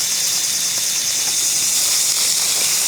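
Ribeye steaks sear on a Blackstone 20-inch camping griddle, giving a steady, loud, close sizzling hiss with no break and no talking.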